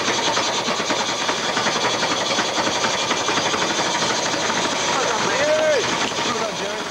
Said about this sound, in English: As the engine warms up, Claire's silence is working beautifully.